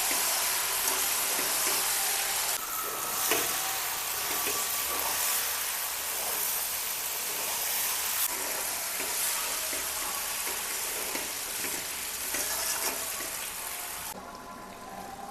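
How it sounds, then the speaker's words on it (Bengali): Spice masala sautés with chicken in a pot for North Indian chicken curry, a steady, close sizzle and frying crackle with stirring scrapes that lasts throughout and fades slightly at the end. "এখন শুধু মশলা কষাতে হবে।"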